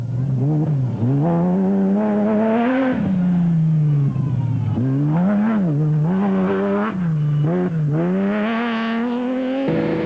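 Rally race cars roar away from the start line at the Lichtenburg 200 rally in 2004. Loud, close engines rev up through repeated rising gear pulls, with no talking.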